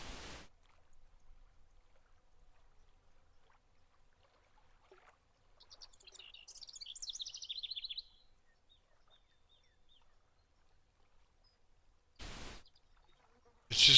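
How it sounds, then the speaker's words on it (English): Ambient birdsong and faint water lapping in the fishing game Fishing Planet, set on a river: soft, sparse high chirps rise briefly mid-clip over near-silence, with a sharp burst at the end. "listening to the little birds chirp with that slight little lap of water"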